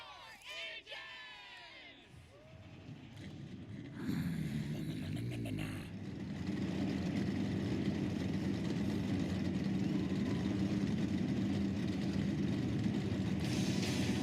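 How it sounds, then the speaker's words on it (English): NASCAR Craftsman Truck Series truck engines firing up and idling at EchoPark Speedway, a rising dense roar mixed with crowd noise and a brief loudspeaker voice, building into a sustained loud rumble. "Engines are fired."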